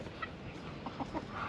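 Backyard chickens give a few soft, scattered clucks at low volume over steady outdoor background noise, with no one talking.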